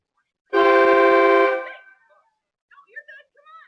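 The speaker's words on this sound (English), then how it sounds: "Freaking loud horn." A Vevor train horn gives one long, very loud chord-like blast of about a second, fading out, followed by brief distant voices.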